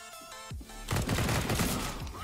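Counter-Strike: Global Offensive gunfire erupts in a dense, loud burst of rapid shots following a brief sharp crack and a short lull, over music-like tonal sounds.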